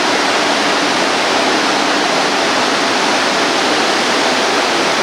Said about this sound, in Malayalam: എനിക്ക് ഇത്രയും ഭീകരമായ ഒരു വെള്ളച്ചാട്ടം നമ്മുടെ റൂമിലിരുന്ന് കാണാം